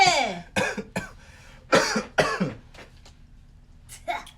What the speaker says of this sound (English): Stop coughing.